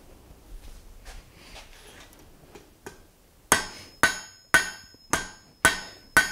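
Hot steel for a blacksmith's poker is struck on the anvil to draw a taper, six loud, evenly spaced ringing hammer blows close by after a quieter stretch of faint shop noise and a single lighter tap.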